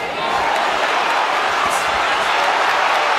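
A crowd cheering at a professional boxing match between Nick Ball and TJ Doheny, a dense, steady roar of arena noise with a commentator talking over it.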